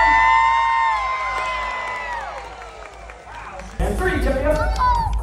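An audience cheers and whoops at a stunt dog show, loud sustained crowd noise with shouting voices and an announcer talking over it, swelling again near the end.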